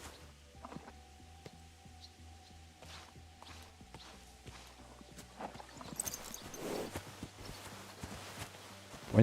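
Horse hooves clip-clop in the video game Kingdom Come: Deliverance II, a quiet, steady walking rhythm over low ambient music and faint game sounds.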